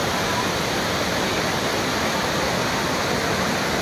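Baabijhari waterfall at Kerameri roars as a steady, loud broadband rush of falling water, continuous and close throughout with no breaks.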